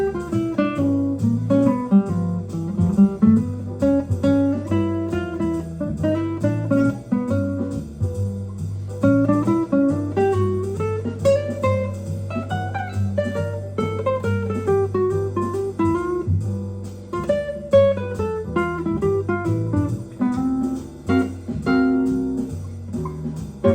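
An improvised jazz line in G melodic minor runs over the four chord, a continuous flow of notes above a sustained low bass tone, moderately loud and steady for over twenty seconds.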